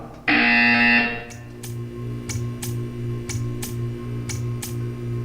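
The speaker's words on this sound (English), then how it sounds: "You will hear a buzzer. When you hear the buzzer, stare at the art." In the video game Portal 2, a loud electronic buzzer blares for about a second, followed by a run of sharp ticking clicks over a low humming background.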